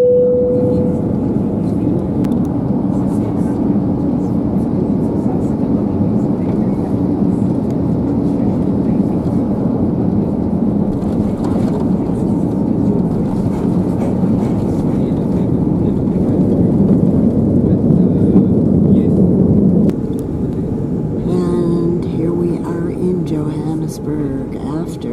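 A South African Airways Airbus A340-600 touching down in Johannesburg, heard from inside the cabin as a loud, continuous low roar of engines and airflow that shifts and eases near the end.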